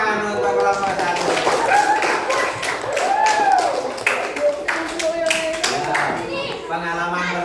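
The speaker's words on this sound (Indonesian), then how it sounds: "tepuk tangan untuk kelompok 1." Classroom clapping for group 1 after their navigation robot finishes its route, a scattered round of children's claps mixed with lively kids' voices and chatter throughout.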